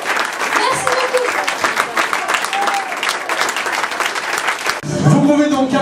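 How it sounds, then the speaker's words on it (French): Loud, dense applause from a comedy club audience in Lourdes after the evening's acts, a steady wash of many hands clapping together that swells briefly near the end. "Vous pouvez donc applaudir tous les artistes du Changement Comedy Club de ce soir"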